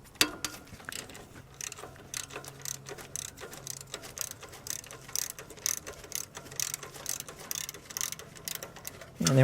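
A 12 mm ratchet wrench loosens the timing belt tensioner bolt on a Toyota Camry 2.2L 5S-FE engine, giving rapid, uneven bursts of close mechanical clicking and pawl ticks.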